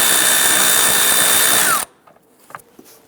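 A power tool spins a 5/16 shallow socket loosening the hose clamp on a 2011-2021 Jeep Grand Cherokee air intake tube, a loud steady whir that stops abruptly, followed by faint clicks and handling noises.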